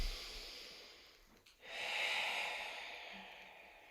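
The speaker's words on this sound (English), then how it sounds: "Just take a couple deep breaths here." A single deep breath during a foam roller exercise: a faint airy inhale, a short pause, then a longer hissing exhale, quiet and close.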